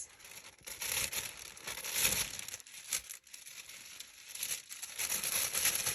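Tissue paper is crumpled and torn by hand close by: soft, irregular crinkling and crackling bursts that swell and fade over several seconds, with no voices.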